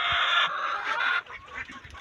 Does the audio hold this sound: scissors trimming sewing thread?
no